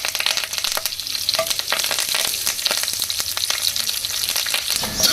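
Dried red chillies and curry leaves fry in hot oil as a tempering for chutney and dal, a loud close crackling sizzle with sharp pops and spatters throughout, no talk.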